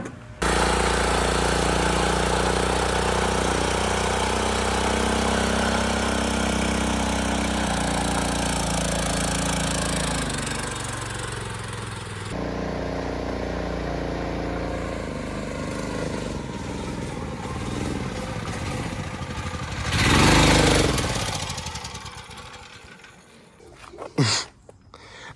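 A $100 go-kart fitted with monster wheels and tires runs its small engine, a loud rough drone that shifts pitch, then drops lower and wavers before a brief revving surge near the end. No one speaks.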